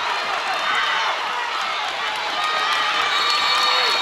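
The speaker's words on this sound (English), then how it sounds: "Taylor Smith encouraging the entire bench in the seating area to stand up and cheer" Crowd and bench at a girls' high school district championship basketball game cheer loudly and steadily, a dense roar of shouting and yelling throughout in a gym.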